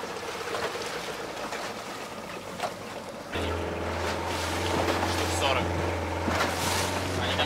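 An outboard motor on a tourist boat in Trincomalee, Sri Lanka drones steadily over wind and water noise, growing louder and steadier partway through, with a voice speaking at times.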